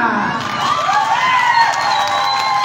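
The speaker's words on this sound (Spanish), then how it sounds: "un aplauso para esa esquina" A festival crowd at Santa María Malacatepec's September 16 festivities cheers, whoops and claps for one corner, a loud continuous roar with shrill voices riding on top.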